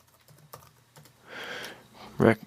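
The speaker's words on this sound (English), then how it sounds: "Go ahead and input my password there." A password is typed on a Mac computer keyboard as a few scattered, soft key taps close by, followed by a brief murmur of speech and a louder bump at the end.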